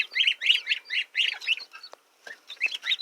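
Goslings peep and chirp in quick, high bursts on a homestead, several birds calling close together with short pauses between clusters.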